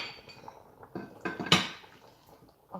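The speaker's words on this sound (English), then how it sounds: "Let me just give this a stir." A spoon scrapes and clinks against a pot of Thai green curry chicken in a few separate bursts, with one louder knock near the middle, all fairly quiet and close.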